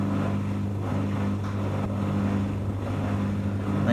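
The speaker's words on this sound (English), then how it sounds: "I think it's just going to start its spin cycle now." An 18 kg Cater-wash industrial washing machine winds up into its spin cycle, giving off a steady, close, low motor drone with a constant hum that holds throughout, with no voices.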